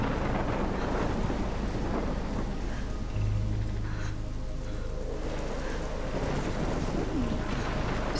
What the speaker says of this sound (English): It is a horror storm.